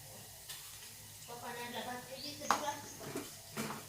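Browned garlic fries in a pan as dried red chilli goes in, a faint sizzle with scattered clinks and scrapes of a utensil, while a person talks over it.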